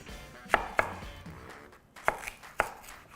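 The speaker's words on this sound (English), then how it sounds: "From here, I'm going to cut my onion into 1/2-inch sized rings." A knife slices through an onion into half-inch rings on a board, with four crisp thuds in two spaced pairs, close and distinct over a quiet background.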